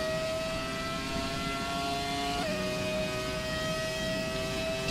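An Ilmor Mercedes Formula 1 car engine in the F1 2017 game, a steady high-pitched whine at sustained revs, with a brief pitch dip as it shifts, continuous and alone.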